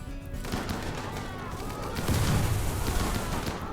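Video game gunfire, a sustained burst of rapid shots and booms filling the scene, growing heavier in the second half, with no talk over it.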